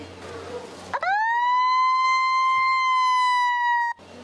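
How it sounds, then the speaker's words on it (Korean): A loud, steady siren wail at a red snow crab auction, holding a single sustained tone for about three seconds, starting abruptly and cutting off sharply, with faint background noise around it. "사이렌을 울리며 경매 시작을 알리는데요."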